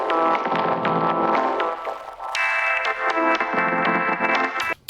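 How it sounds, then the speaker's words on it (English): A basic synth in Ableton is run through a vocoder modulated by foley sounds, giving a rich, sustained chordal tone with gurgling, liquidy sweeping movement and percussive ticks, loud and continuous before cutting off abruptly. "add lots of cool liquidy movement to any basic synth sound"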